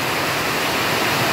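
Rain falls as a loud, steady rushing hiss that stays even from start to finish. No voices or other sounds break through.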